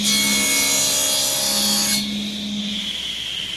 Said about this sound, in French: La machine qu'on entend, c'est une scie circulaire